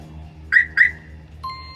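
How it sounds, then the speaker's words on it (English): Two quick high chirps from a tow truck alarm arming, followed by a short steady electronic tone, close and clear over a low hum. "Turns on the alarm"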